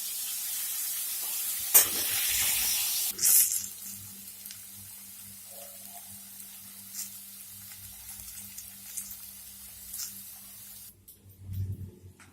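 Potatoes for mutton biryani fry in oil with a soft continuous sizzle and occasional louder bursts of spitting, along with a few clinks and stirring noises, with no talking.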